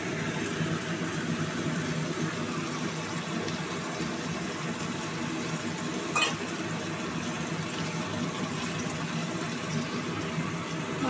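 Goat meat dropped into a pan of fried spices and separated oil, giving a steady, moderately loud sizzle and bubbling that runs throughout, with a brief clatter partway through and no talking.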